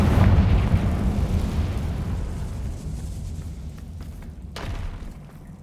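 Confringo fire spell blast in the video game Hogwarts Legacy, a heavy booming explosion right at the start that rumbles and slowly fades over several seconds, with a faint crackle near the end and no voices.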